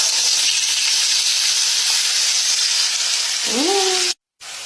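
Corn mixed with mayonnaise sizzles and hisses steadily in a frying pan, a loud continuous crackle broken near the end by a brief scrape before cutting out.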